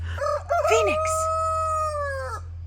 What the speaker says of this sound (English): Let's go see if we can encourage him to go and crow somewhere else.